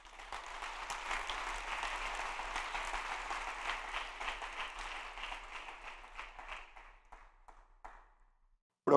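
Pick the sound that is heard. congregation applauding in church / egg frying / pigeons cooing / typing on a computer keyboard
congregation applauding in church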